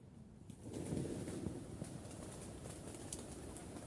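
Soft pigeon cooing and fluttering under a steady outdoor hum, fairly faint, with no one speaking.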